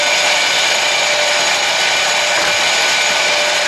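A pen blank is sanded with 280 grit sandpaper, probably as it spins on a lathe, making a loud, continuous, even hiss and whir close by with no talking.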